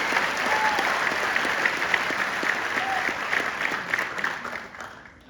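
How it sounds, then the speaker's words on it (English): Audience applause for graduates at a BLC class 08-23 military graduation ceremony: a dense, steady round of clapping from a crowd that holds strong for most of the span, then thins and tapers toward the end. "please join me in a round of applause to congratulate our graduates."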